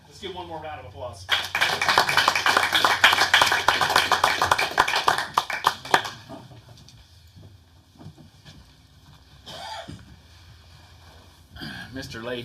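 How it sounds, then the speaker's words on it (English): Applause breaks out at a city council meeting after a tribute tied to a Veterans Memorial: several seconds of dense clapping that cut off sharply, followed by scattered voices and room noise. "Let's give one more round of applause."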